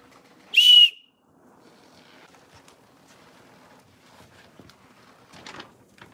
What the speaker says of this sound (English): Some tine that makes a whistle.